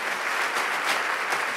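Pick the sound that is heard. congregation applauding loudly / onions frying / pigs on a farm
congregation applauding loudly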